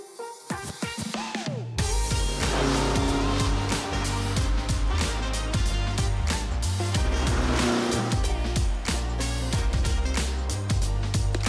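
A Renault R8 Gordini pulls away, its engine loud and continuous close by, with steady revving and shifts in pitch after a brief quieter moment at the start.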